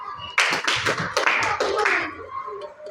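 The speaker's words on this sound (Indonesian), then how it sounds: "Kalau ini Tepuk tangan 2 kali." Students in a classroom clap their hands together on an instruction during a group exercise, a short burst of several quick claps and taps close by, fading into a few scattered light taps and murmurs.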